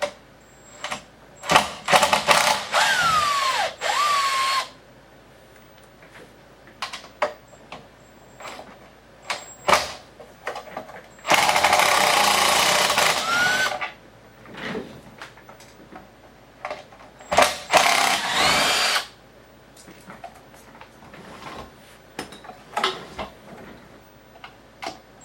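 A 5 mm drill bit bores into a Campbell Hausfeld 2-gallon air compressor during repair. The motor whines up in three separate loud bursts, with quieter clicks and handling noises in between.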